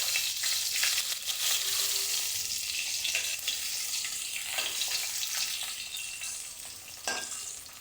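Snakehead fish pieces fry in hot oil with a steady loud sizzle, and scraping spatula strokes punctuate it as the pieces are turned over.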